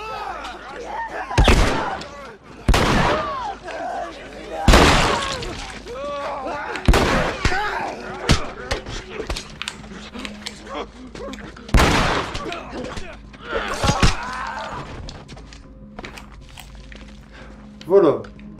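Repeated gunshots from a handgun in The Last of Us, roughly seven sharp loud reports spread irregularly over the stretch, each with a short decay, over ambient game sounds with a voice speaking in between.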